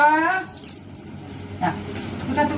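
Water runs steadily from a tap while a dog with a skin condition is bathed, a close, continuous gushing splash with a voice briefly heard at the start.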